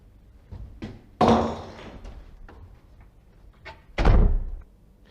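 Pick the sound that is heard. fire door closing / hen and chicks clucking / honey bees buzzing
fire door closing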